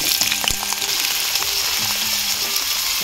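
Cut potatoes fry in a pan with turmeric and a little salt, filling the space with a loud, dense, close sizzle and crackle that holds steady throughout, with faint low clatter beneath.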